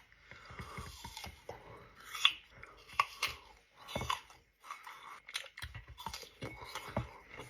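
Someone eats an apple, producing close, quiet crunching bites and wet chewing in an irregular rhythm, with no talking.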